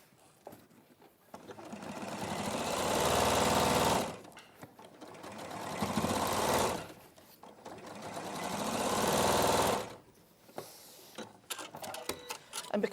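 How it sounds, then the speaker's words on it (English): A sewing machine stitches a basic 4-patch quilt block with a short stitch length, running in three steady bursts of a few seconds each, with quiet handling sounds and small clicks in the pauses. "take it to the machine, and then sew them together for a basic 4-patch"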